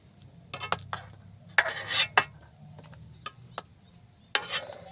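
A spoon clinks and scrapes against a cooking pot as soft boiled hog plums (bilati amra) are lifted out one after another. The close, intermittent metallic knocks come in uneven bursts with quiet gaps between them, and no one speaks.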